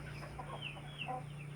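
Hens scratching for food in a backyard run, giving soft scattered clucks over a steady low hum, fairly quiet and close.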